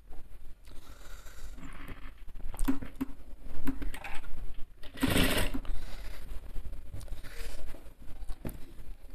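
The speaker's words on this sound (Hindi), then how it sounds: "एक पैर की सिलाई हम मार देंगे इसमें।" Sewing machine stitching a men's kameez, a steady whirring run with short bursts and pauses, one louder stretch in the middle, close and alone with no talk.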